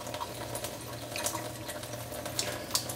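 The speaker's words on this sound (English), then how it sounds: "Drinking water comes out." Alkaline drinking water runs from a Tyent 9000T water ionizer into a sink, a steady, soft, close trickle with nothing else heard.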